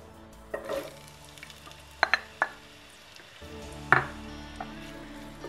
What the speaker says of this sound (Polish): W garnku rozgrzewam 2 łyżki oleju i wrzucam posiekaną cebulę.